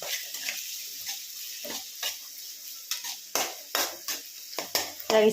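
Corn being fried and stirred in a pan while preparing momos, with a series of sharp metallic scrapes and taps from a spatula over a faint sizzle, close and intermittent, with no talking.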